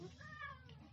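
A single drawn-out cat meow, close and fairly soft, with a wavering pitch and no talk over it.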